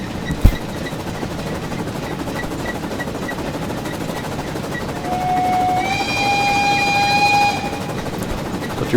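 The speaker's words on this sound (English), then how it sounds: "What your whistle sounds like outside." Heard from outside, the Saxon IV-K 0-4-4-0T steam locomotive's whistle in Train Simulator Classic gives one sustained shrill tone rising in pitch, over the steady rumble of the moving train.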